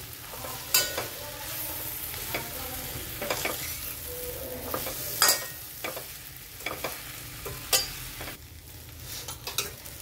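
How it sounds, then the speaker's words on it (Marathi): Leftover idli pieces stir-fry with masala in a pan, with a soft constant sizzle under intermittent scraping and clinking strokes from a spatula, close and moderately quiet. No voices. "आता हे सगळे मसाला याला लागला पाहिजे असं परतून घ्यायचं आपल्याला"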